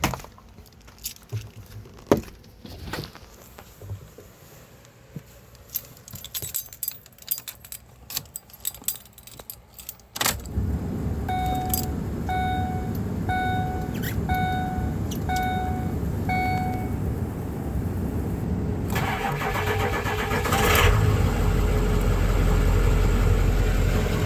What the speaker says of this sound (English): we're going to start cold start these 2005 Ford E350 Super Duty. 6-liter power stroke turbo diesel V8.